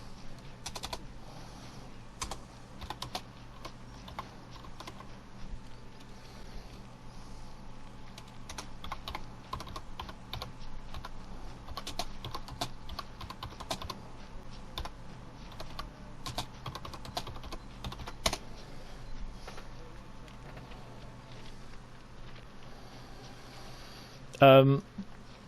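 Fast, close clicking from a computer keyboard runs on and on in irregular bursts, a long stretch of typing that ends with one sharp, louder knock.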